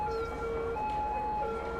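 A police car in Cities: Skylines sounds its siren, a steady two-tone wail cycling between pitches, fairly close and continuous with no one speaking.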